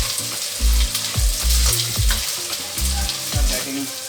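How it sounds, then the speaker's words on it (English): Onions frying toward golden brown for chicken do pyaaza, with a loud continuous sizzle and repeated scraping stirs that land in an uneven rhythm, close up and free of talk. "Make sure you don't burn the onion. It should get golden brown."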